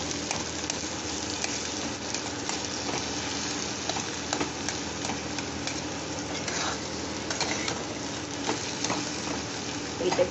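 Cabbage being sautéed down for a Bengali cabbage bharta fills the pan with a continuous soft sizzle and occasional stirring scrapes, moderately quiet and without talk.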